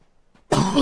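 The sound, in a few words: character coughing in video game Like A Dragon: Pirate Yakuza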